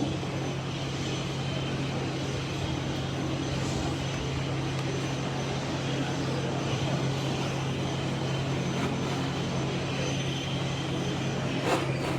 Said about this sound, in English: Life Flight is here on scene.